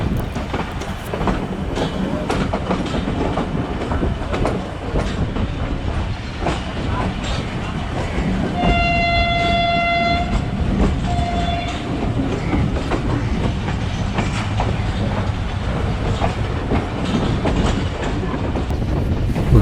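Karachi Express train pulling out of Multan and gathering speed, a steady rolling rumble of wheels and carriages that runs throughout at close range, with a brief high whistle-like tone in the middle.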